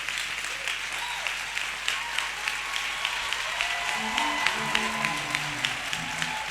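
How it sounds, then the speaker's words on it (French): Steady applause from a church congregation fills the space for a woman, dense clapping throughout with faint tonal sounds rising underneath toward the end. "J'aimerais que vous applaudissiez pour cette femme."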